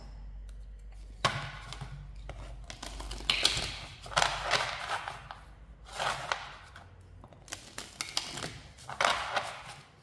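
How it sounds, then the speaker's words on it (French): Oracle cards from a large love oracle deck are shuffled and dealt for a nine-card tarot-style reading, heard as several separate bursts of quick papery riffling and clicking with brief quiet gaps between them. "on va faire le tirage pareil en tableau 9 cartes"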